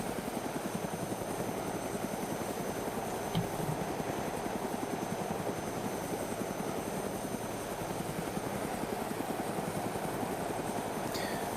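Steady helicopter rotor drone from a video game, hovering on auto hover during a heli-lift, a continuous loud pulsing thrum with faint engine whine, no talk.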